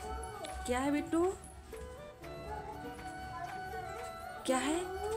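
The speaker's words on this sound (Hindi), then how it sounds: "बिल्ली थी भाग गई" A cat meows a couple of times, drawn-out rising cries, amid a busy background of voices and other noise.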